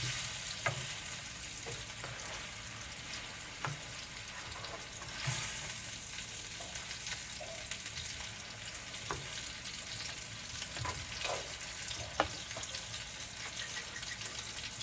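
Conch meat for a Haitian conch dish fries steadily in a pan, a continuous faint sizzle spotted with small pops and crackles, with a few louder spits scattered throughout and no talking.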